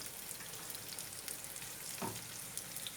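Onions and two green chilies fry in hot oil for a tadka for pakora curry, giving a steady, close sizzle with soft crackles and a brief stirring scrape near the two-second mark, with no talking.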